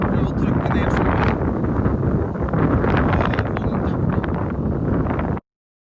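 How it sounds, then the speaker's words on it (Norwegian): Strong headwind buffets the microphone on the Banak golf links, a loud, continuous roaring rush that cuts off abruptly near the end. "Masse vind imot."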